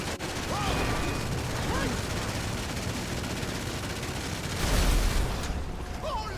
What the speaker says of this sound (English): the machine guns on the Night Shark are decent at best